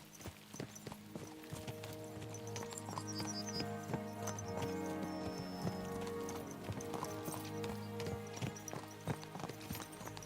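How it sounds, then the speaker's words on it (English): Horses clip-clopping at a steady trot on a road in the medieval game Kingdom Come: Deliverance 2, hooves close and continuous over a low droning music bed, with a brief whinny. "Let's really spur these horses on, eh?"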